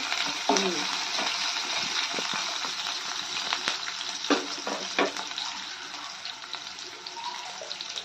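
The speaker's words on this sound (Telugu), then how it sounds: "ఇప్పుడు కట్ చేసుకున్న ఉల్లిపాయలు, దీన్ని బాగా ఫ్రై చేసుకోవాలి." Chopped onions fry in a pan for Andhra tomato tamarind rasam, giving a steady close hiss with occasional scrapes and clinks of stirring throughout.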